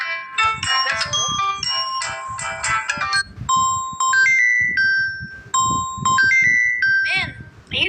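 Samsung Galaxy A14 phone ringtone sounds up close, first a dense run of bright piano-like notes, then sparser sustained chimes and rising bell tones after a brief gap.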